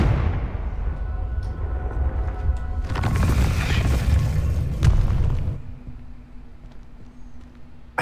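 An explosive spell blast in a wizarding video game: a rumbling boom swells mid-scene, holds loud for a couple of seconds, then drops off to a quieter ambient hum.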